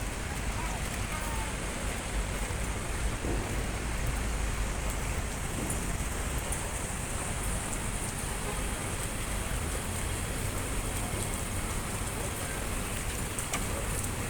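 Steady rain falling on an afternoon at a Hong Kong market, a constant even patter and hiss across the whole stretch, close and dense, with no clear talk over it.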